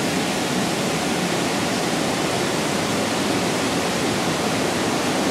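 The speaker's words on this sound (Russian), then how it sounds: "Река шумит с той стороны." A river rushes through a gorge beside a railway line, a steady, broad, hissing roar with no breaks, heard alone without voices.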